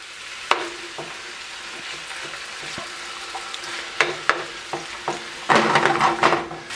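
Pork pieces frying in oil in a well-used, scratched pan for pad thai, with a steady sizzle, scattered clinks of utensil against metal and a louder burst of stirring and spatter near the end.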